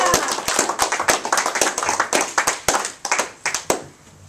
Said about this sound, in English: Let's get a nice big round of applause for the producer of the show, my friend Doug X.